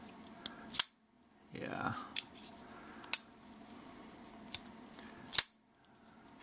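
CIVIVI Imperium folding knife with carbon fiber and gold shred handle and Nitro-V blade, flipped open by its thumb stud: a few sharp metallic clicks and snaps spaced apart, close and fairly quiet, with a brief rustle in between and a short spoken word.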